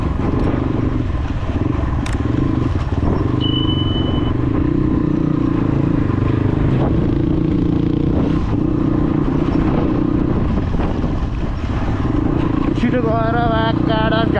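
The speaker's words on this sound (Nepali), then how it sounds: "बाइक चल्दैछ यार" A motorbike rides a dirt mountain road in Manang, its engine droning steadily with rattling clatter from the rough track, and people talk over the ride.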